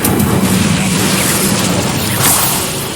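An Incendio fire spell bursts during a dragon cage fight in Hogwarts Legacy, a loud, roaring blast with a booming low rumble that sustains for a few seconds, with no talk over it.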